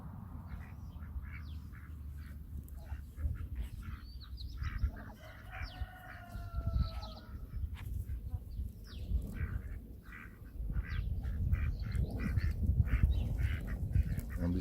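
Several Orpington ducks quack and a rooster crows amid clucking fowl in a vegetable garden, with low rumbling background noise throughout.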